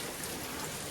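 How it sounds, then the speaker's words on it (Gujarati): Steady rain pours down in a dense, even hiss, close and unbroken. "પાણી વરસાદ પડે છે."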